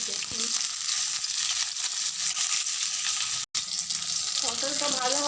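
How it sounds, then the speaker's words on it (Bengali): Pointed gourd (potol) slices fry in hot oil in a home kitchen, giving a steady close sizzle and crackle throughout with a brief break partway, and a voice briefly joins near the end. "পটলটা ভাজা ভাজা হয়ে গেছে।"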